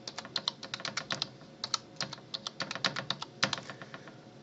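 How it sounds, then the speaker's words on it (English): Rapid keystrokes on a computer keyboard as a username and password are entered, a close, dry run of clicks in uneven bursts with brief pauses between them. "first time you run it, it's going to ask for your username for Denise and your password"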